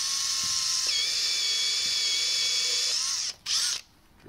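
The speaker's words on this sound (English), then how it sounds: "Drill a hole." A power drill boring a hole in a cheap plastic plunger, a steady high-pitched whine held close and loud for about three seconds, then a brief stop and a short final burst.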